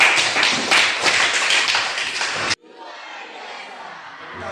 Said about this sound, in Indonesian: Tepuk tangan dulu untuk kelas 12.